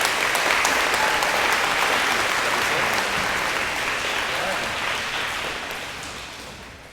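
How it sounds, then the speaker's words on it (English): Audience at an elementary school DARE graduation gives the guest speaker a round of applause, a full, steady clapping that gradually thins and fades over several seconds. "So please give a round of applause to our guest speaker, Mr. Noel Shoemaker."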